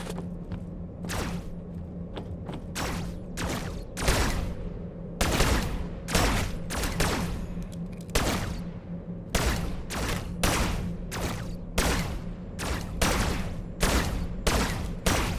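Rifle fire in the video game EverRail, a long run of loud, sharp shots in uneven bursts, some spaced seconds apart and others rapid, over a steady low background hum.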